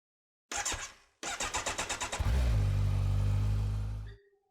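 A Kawasaki Ninja 1000SX motorcycle cranks close up, first in a short burst and then a longer rhythmic churn, before the engine catches and settles into a loud, steady idle that cuts off at the end.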